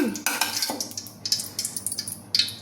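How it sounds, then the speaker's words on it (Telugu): Thin coconut pieces dropped into hot ghee in a kadai for rava laddu, with a quick run of close spoon clinks and stirring scrapes against the pan and a light sizzle, no talking. "కొబ్బరి ముక్కలు వేయిద్దాము"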